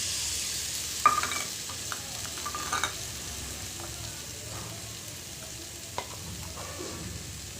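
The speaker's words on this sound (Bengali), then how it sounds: "মশলাগুলো সব কষানো হয়ে গিয়েছে" Spices with asafoetida sauté in a pan for mutton curry, a soft steady sizzle with scattered stirring scrapes and light clinks, close but fairly quiet, no one talking.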